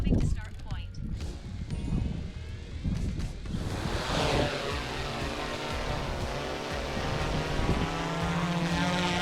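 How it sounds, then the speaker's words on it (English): A mapping drone flying over a field makes a steady high buzzing propeller whine overhead, continuous and rising slightly in pitch, with heavy wind rumble and someone talking. "since I have a drone in the air"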